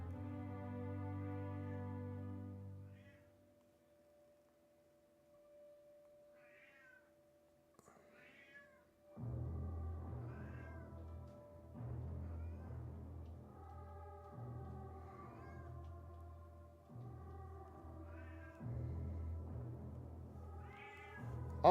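A cat meows repeatedly close by, in long drawn-out calls that repeat in a rhythm after an earlier stretch of steady tone and quiet.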